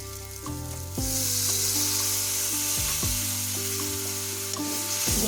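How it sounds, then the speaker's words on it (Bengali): Spices fry in a wok on a low flame for Bengali patal posto, a steady close sizzle running the whole time, with harmonic tones gliding over it and the hiss getting slightly louder after the first second. "এটাকে আমরা আরো মিনিট দিয়ে ধরে লো ফ্লেমে কষাতে থাকবো।"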